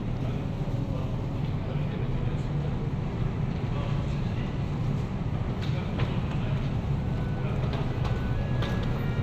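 A continuous low rumble and rattle of a moving Moscow metro carriage, steady throughout, with a voice speaking over the noise.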